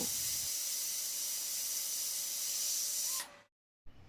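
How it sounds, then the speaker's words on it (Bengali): A loud, continuous hiss of steam escaping a pressure cooker on an induction cooktop cuts off abruptly into silence, then a brief burst of hiss returns. "প্রেশার কুকারে দিয়ে আমি কয়েকটা সিটি লাগিয়ে নেব"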